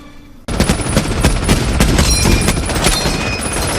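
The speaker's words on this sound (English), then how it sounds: "The M1 Garand is a semi-automatic rifle, meaning that the user can fire the gun as fast as they can pull the trigger." Dense rapid gunfire from a game's M1 Garand semi-automatic rifle battle scene, a loud continuous fusillade of overlapping shots that starts abruptly and continues to the end.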